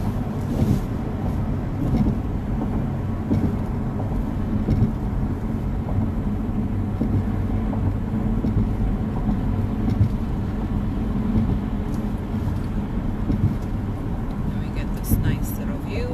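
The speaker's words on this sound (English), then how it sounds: "And the traffic starts just because now it's separating." Street traffic in Brooklyn, New York heard from inside a moving car: a steady low engine and road rumble with wind noise, continuous and even throughout.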